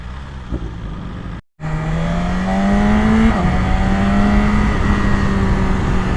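A BMW S1000RR sport motorcycle engine revs hard while being ridden, a loud, steady high-pitched wail rising through the gears, briefly cut off by a short gap, then pulling on strongly and close up with wind noise.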